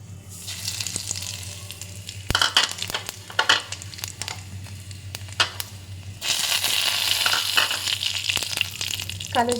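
Nigella seeds (black cumin) sizzle in hot oil in a home kitchen, a steady crackling hiss that turns louder and denser partway through, with scattered pops over a low background hum.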